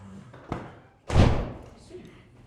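A church door in Višķi, Latvia, swings open: a sharp knock comes first, then a loud, broad heavy thud that slowly fades, with faint background murmur.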